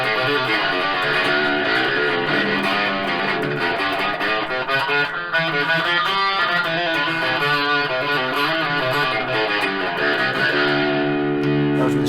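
A Squier VI electric bass plays a continuous melodic line with a thin, filtered, bright tone from its strangle switch and some distortion, loud and alone without any voices.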